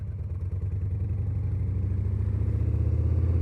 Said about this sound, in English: I'll shift into third so you guys can hear that too.